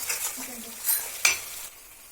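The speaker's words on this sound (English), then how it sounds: "Mix it well along with the gravy" Gobi manchurian being stirred through its gravy in a pan, with a few short scraping strokes over a light sizzle, close and brief.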